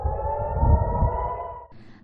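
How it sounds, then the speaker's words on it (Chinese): Air raid sirens wail in a town in northern Israel, a steady loud tone that holds for over a second and a half and then cuts off into a thinner sound. "密集拉响防空警报。"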